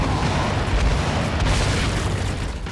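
Rocket explosions in the video game Gears 5 Hivebusters give a dense, continuous run of loud booming blasts and rumbling bursts that overlap throughout, with no clear gaps between them.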